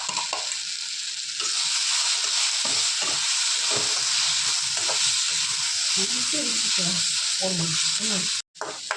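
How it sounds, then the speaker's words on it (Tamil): Spiced onion masala with garam masala frying and being stirred in a pan for an egg kothu chapati, a loud steady sizzle with repeated scraping strokes throughout, ending in a brief clatter. "போட்டு எல்லாத்தையும் நல்லா கிளறி விடும்"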